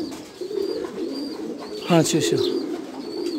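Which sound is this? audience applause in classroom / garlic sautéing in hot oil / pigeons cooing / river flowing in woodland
pigeons cooing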